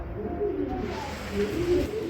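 Racer pigeons at a seller's pen give low, soft cooing phrases close by, two or three gentle rolls over a faint steady hiss.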